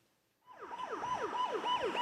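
A 119 ambulance siren wails in repeated rising and falling sweeps, starting abruptly and growing loud and close, alone without speech.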